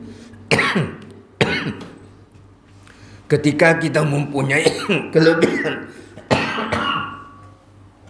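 Several sharp, harsh coughs and throat clearing, close and loud, spaced out between bursts of someone speaking.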